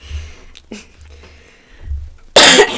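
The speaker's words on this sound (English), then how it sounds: "Man, I'm gonna try not to cough, you guys." A single sharp cough bursts out near the end, loud and close, after a stretch of quiet breathy room sound and low rumble; no words spoken.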